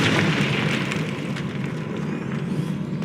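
A Confringo fire spell exploding in the game Hogwarts Legacy, a rumbling burst that fades into a sustained roar and crackle, steady and loud with a few faint sparkly accents on top.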